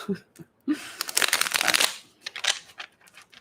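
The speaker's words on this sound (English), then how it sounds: "That was horrible shuffle." A deck of tarot cards is riffled and shuffled up close, with a dense burst of papery flutters and snaps, then a few lighter shuffling taps and a brief voice at the start.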